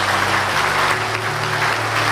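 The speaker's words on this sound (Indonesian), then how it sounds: "Sekali lagi beri tepuk tangan" A crowd at an Indonesian gathering gives a loud, thick round of applause, the clapping sustained and close, layered over faint steady musical tones.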